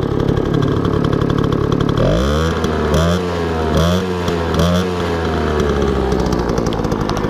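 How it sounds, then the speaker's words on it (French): A Flandria Comet 4 moped engine runs loud and close, a rough, rapid buzz that rises and falls with a few throttle blips before settling back to a steady run, alone without talk. "Et maintenant, je vais vous faire profiter du bruit de la machine."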